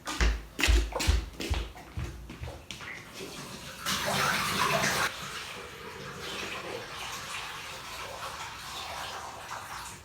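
Watery liquid poured out and discarded, a loud splashing rush with a few sharp splats at first, then a steadier gush that settles into a softer trickle.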